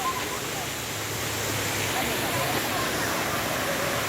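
Salisip Falls pours as a dense, constant rushing roar of falling water, close and steady for the few seconds heard, with no clear voices over it.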